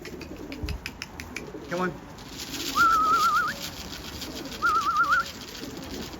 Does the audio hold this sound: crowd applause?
no